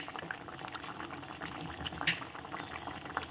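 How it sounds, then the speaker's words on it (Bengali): Beans and peas simmer in a pot with a steady, soft bubbling boil, continuous small pops and gurgles at low volume with no talk. "সিম আর মটরশুঁটিটা সিদ্ধ হতে থাকে।"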